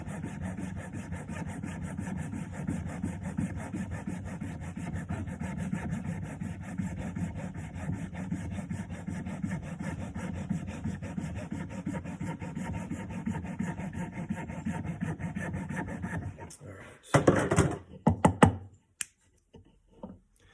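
A sharp hand tool scrapes and carves a solid block of wax, a steady close scratching that runs continuously before breaking into a few louder, choppier scrapes near the end.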